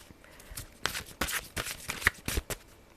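Tarot cards being shuffled by hand in a quiet room, a quick series of soft, papery riffles and slaps in an uneven rhythm, close and fairly faint.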